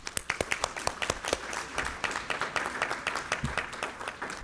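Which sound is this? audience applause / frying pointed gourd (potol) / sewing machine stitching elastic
audience applause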